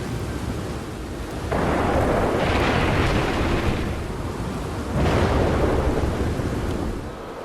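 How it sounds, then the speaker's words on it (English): Thunderstorm in the video game Red Dead Redemption 2, with loud rolling thunder cracks breaking in twice over a steady wash of rain, no talking. "The weather systems are just fascinating to me. The thunderstorms, oh my god."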